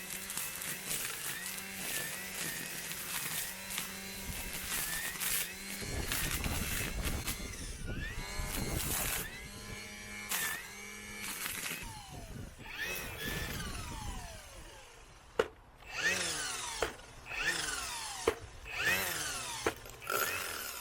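Milwaukee battery strimmer of the 2020 Quik-Lok line running at full power, a continuous whining motor drone that rises and falls over about twenty seconds, with a few sharp knocks near the end.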